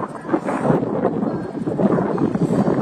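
Strong wind at a train station, a steady loud rushing and buffeting that roars against the microphone for the whole stretch, heard alone with no talking.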